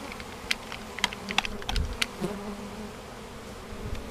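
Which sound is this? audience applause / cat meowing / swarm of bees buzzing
swarm of bees buzzing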